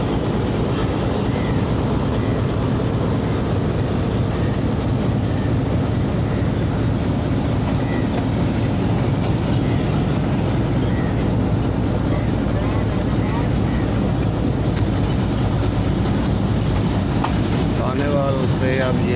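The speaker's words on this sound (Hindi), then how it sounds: "खानेवाल से अब ये हज़ारा एक्सप्रेस रवाना हो चुकी है अपनी मंजिल कराची की तरफ।" The Hazara Express pulling out of Khanewal bound for Karachi makes a loud, continuous rumble with rhythmic clatter of wheels on track, steady throughout from close by.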